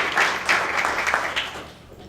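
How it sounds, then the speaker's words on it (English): An audience applauds at a Hard Hats and Heels event, steady crowd clapping that swells and fades over about two seconds. "let's give Legislator Bynum another round of applause for her amazing work"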